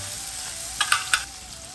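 Ingredients for buttermilk rava upma crackle and fry in hot oil, a soft steady sizzle broken by three sharp, close pops in quick succession before settling back to a gentle hiss.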